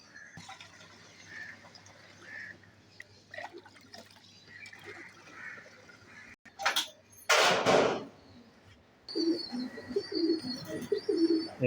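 Pigeons drink from water set out for them, with soft cooing, faint wing and body movement, and some splashing and sipping sounds nearby.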